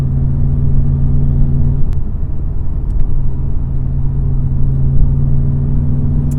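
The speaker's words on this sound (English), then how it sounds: "these boxer engines have a really nice sound to them" A 2004 Subaru WRX boxer engine gives a loud, close, steady droning rumble. The low hum holds at a fairly even pitch rather than climbing, and no one speaks over it.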